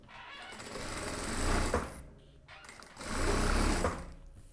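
A sewing machine stitches the inside seam of a wide summer dress's lining in two close, rhythmic runs, each swelling and easing off, with a short pause between them.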